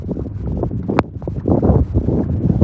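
Strong gusts of wind buffet the microphone on a misty hilltop at Asheri fort near Boisar, a continuous rough low rumble rising and falling, close and loud.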